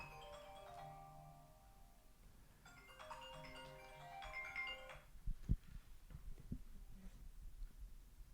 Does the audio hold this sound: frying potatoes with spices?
no